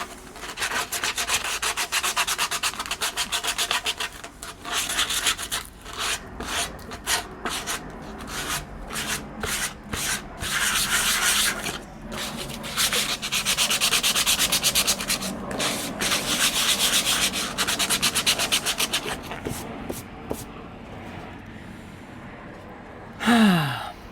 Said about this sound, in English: I guess we have to sand the top, right?